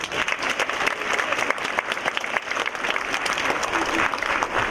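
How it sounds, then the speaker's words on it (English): Audience applause at a Northern California Cherry Blossom Queen program, steady dense clapping throughout, moderately loud and continuous with no talk over it. "Please give a round of applause to the auditors."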